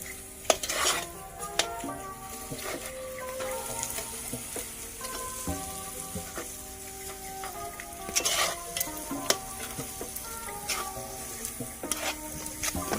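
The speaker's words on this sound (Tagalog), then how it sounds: "Habang nilalagay yung malagkit, kailangan sinusunod mo rin siya halo para yung asukal mag-mix na maayos." Sticky rice and sugar being stirred in a pot for biko during outdoor cooking, with a steady scraping and sizzling texture and occasional sharp clanks of the spoon against the pot.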